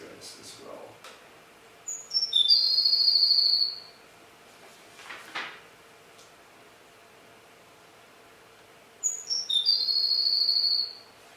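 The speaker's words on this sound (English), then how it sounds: "it's kind of introductory notes and then a slow trill for Baird sparrow" A Baird's sparrow sings in open prairie grassland: a few high introductory notes followed by a slow trill, repeated twice with a pause between, fairly clear above faint background.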